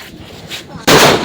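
A single sharp firecracker blast goes off close by during a festive outdoor fireworks session, loud and sudden after a quieter stretch of faint background noise, then it rings out briefly.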